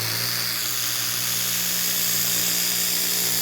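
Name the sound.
nano long neck polisher running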